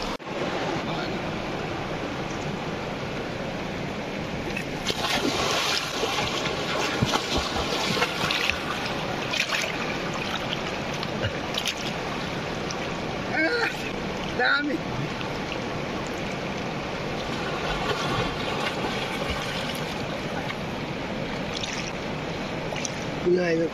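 Water pours from pipes along a river near a swimming spot above Dharan, rushing in a steady broadband stream that holds close and loud throughout, with voices talking over it.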